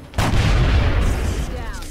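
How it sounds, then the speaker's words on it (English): Sniper rifle shot in the video game XCOM: Enemy Within, a single loud, heavy boom with a long rumbling decay and a faint whistling tail. "And Doss nails the shot"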